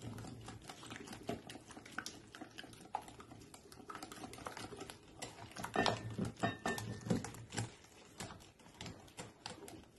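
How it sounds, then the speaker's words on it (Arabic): Eggs are whisked into sweet crepe batter in a bowl, a quiet, steady run of rapid clicking and tapping strokes that grows slightly louder midway, with no speech. "وكنزيد عليه البيضات وغادي نخلط هادشي مزيان"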